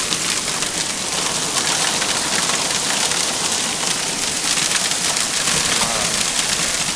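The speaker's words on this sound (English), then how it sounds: "Look at that, that is hail." Hail pelts down steadily during a 2010 hailstorm in California, a dense, loud, unbroken patter of stones hitting surfaces, with no voices.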